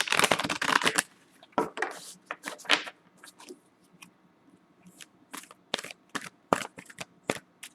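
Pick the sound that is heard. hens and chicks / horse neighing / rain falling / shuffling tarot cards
shuffling tarot cards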